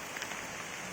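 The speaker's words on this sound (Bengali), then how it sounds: "কিন্তু প্রচণ্ড বৃষ্টি হচ্ছে।" Heavy rain pours steadily outdoors on a dark morning, a dense even hiss with faint scattered drop patter, no voices.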